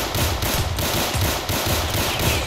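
Gunfire in a Roblox hood roleplay game, with rapid repeated shots in a fast, rhythmic burst that runs loud and continuous through the whole clip.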